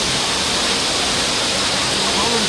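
Tinago Falls roaring as a dense, steady wash of falling water close by, loud and unbroken throughout, with a voice faintly present beneath it.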